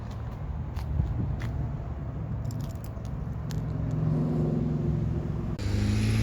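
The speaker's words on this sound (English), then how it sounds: "Closing the power liftgate is nice and easy. Simply hit the button up top here, and that'll close right down for you." Power liftgate on a 2016 Toyota RAV4 SE AWD closing: a steady motor hum and drone runs for several seconds, swelling slightly midway before a soft shift near the end as the gate settles shut.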